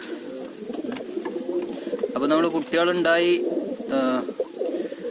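Large-headed domestic pigeons coo in low, throaty bursts nearby, several rolling calls rising in the middle, while someone talks over them.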